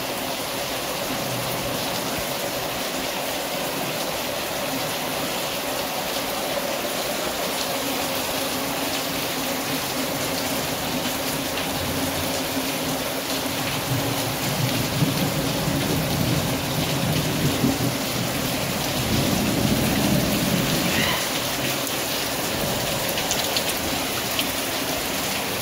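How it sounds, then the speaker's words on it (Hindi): A heavy monsoon downpour drums steadily on a house for a long stretch, with low rolls of thunder swelling beneath the constant hiss of rain. "और बहुत तेज़ इतने टाइम बारिश हो रही है"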